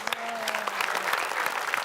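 Brief applause from a small audience, a quick run of close, distinct hand claps with a voice speaking briefly over the start.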